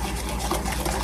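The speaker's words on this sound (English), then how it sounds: "So we want to whisk this until we don't have any lumps in there." Batter for an apple cobbler is whisked in a bowl, a steady close scraping and swishing that keeps up with an even rhythm through the brief moment.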